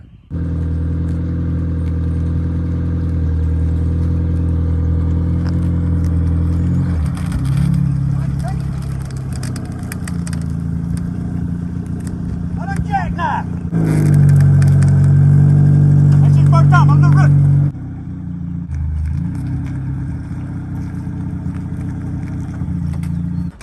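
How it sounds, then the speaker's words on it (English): Pickup truck engine idling and revving while backing a trailer into a parking spot, a steady loud rumble throughout with a stronger surge of revving midway, then settling back to idle. "So today I'm going to show you how to precisely back a trailer."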